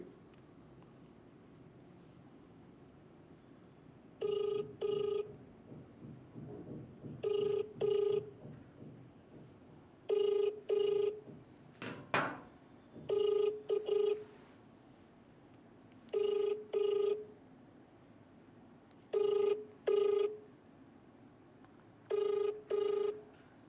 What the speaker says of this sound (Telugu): మీరు కాల్ చేసి ఫోన్ లిఫ్ట్ చేయట్లేదు.